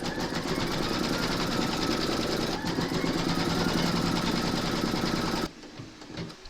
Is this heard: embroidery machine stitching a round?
yes